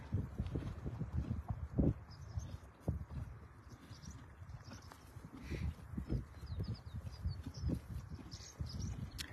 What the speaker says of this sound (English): there's nothing better than listening to horses eat